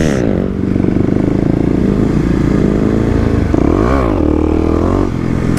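A Kawasaki KLX250 motorcycle engine held at high revs during wheelie attempts, loud and close, with a dip and a sharp rise as the clutch drops, then surging again.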